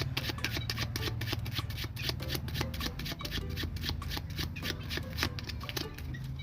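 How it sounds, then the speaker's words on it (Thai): A deck of playing cards is shuffled over and over, a rapid riffling patter of crisp card flicks in quick bursts, close and fairly quiet against a low background hum. "สับไพ่นะครับผมเลย"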